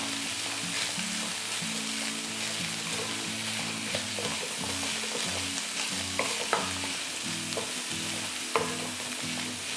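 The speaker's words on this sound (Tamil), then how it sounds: "அப்பப்போ கிளறணும், இல்லைனா தீஞ்சிடும்" Fresh peas and vegetables for cabbage rice sizzle steadily in a pan, with repeated scraping stirs and occasional clinks of the spoon, over a soft background tune.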